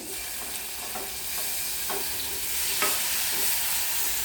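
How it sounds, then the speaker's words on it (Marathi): Tomato sizzles steadily in a hot pan with garlic, with a few soft scraping stirs cutting through the continuous frying hiss. "आता मी ह्याच्यात टॅमॅटो घालून घेते"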